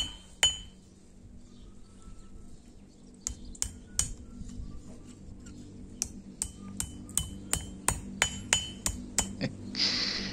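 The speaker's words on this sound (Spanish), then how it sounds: "Cuando el acero está al rojo se pone bastante maleable y puedes tirárselo con el martillo" Sharp metallic hammer strikes on red-hot steel ring out in a steady rhythm, a dozen or so blows, close and bright, over a low background hum.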